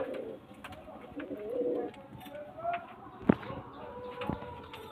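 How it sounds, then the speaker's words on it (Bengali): Pigeons kept for sale coo softly nearby, low throaty calls rising and falling under faint background murmur, with a sharp tap partway through. "দেখুন পায়রা কোয়ালিটি দেখুন,"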